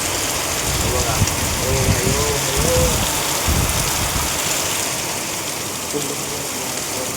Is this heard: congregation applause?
no